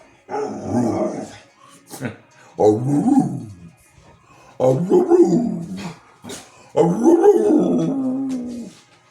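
An American Staffordshire terrier growls and grumbles in four drawn-out, throaty bursts, close to the microphone, with short quiet gaps between them.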